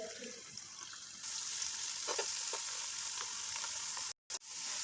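Three medium onions drop into hot oil for degi chicken korma, a soft hiss that jumps to a steady, fairly quiet sizzle with faint stirring ticks and a brief cut-out near the end.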